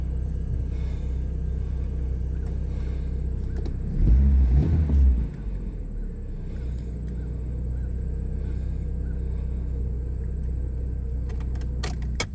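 A 1995 Plymouth Neon idling after a cold start: a steady low engine hum runs throughout, with a brief louder rumble near the middle and faint rattles and clinks nearby.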